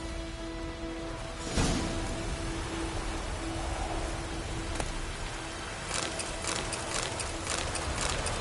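Horse hooves in The Witcher 3 clop over a steady hiss of rain-like ambience, with a few faint hoof strikes early on and a quicker run of clear thuds near the end.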